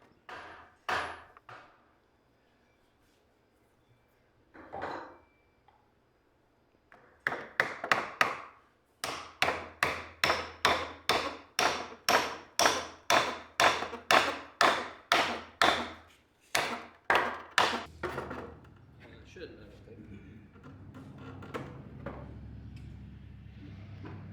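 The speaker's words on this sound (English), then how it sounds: "Drive that on and put a similar dowel through there." A dowel is hammered into the wooden foot plate of a shavehorse, a long run of sharp, evenly spaced wooden knocks close by, with a few scattered taps before it and quieter handling afterward.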